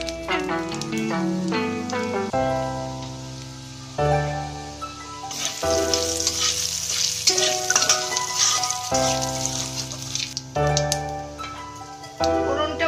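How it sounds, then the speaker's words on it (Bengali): A dried red chilli, bay leaf piece and a little cumin frying in hot oil, a soft crackling sizzle that swells in the middle, heard beneath background music with a few light clinks. "দিচ্ছি একটা শুকনো লঙ্কা, তেজপাতার টুকরো আর অল্প জিরে।"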